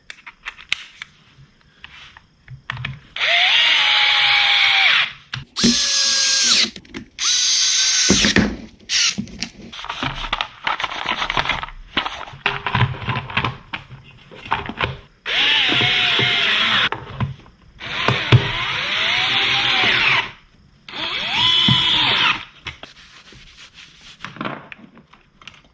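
A Fantic electric screwdriver set to torque level 3 runs in repeated short bursts of whirring, several spurts of a few seconds each with brief gaps and handling clatter between them, close and fairly loud.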